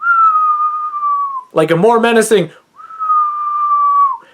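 A person whistles long, steady, piercing tones in imitation of the villain Whistler from the film Trancers, with two sustained whistles around a short burst of spoken words.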